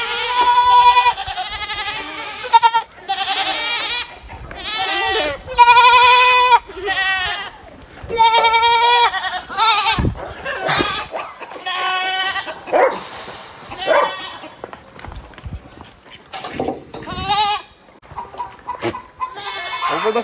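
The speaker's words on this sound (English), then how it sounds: "are you playing aggravated goat?" Goats bleat loudly and repeatedly at close range, with several drawn-out, wavering cries and shorter calls arriving in bursts over farmyard noise.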